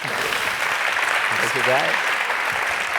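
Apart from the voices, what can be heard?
audience applause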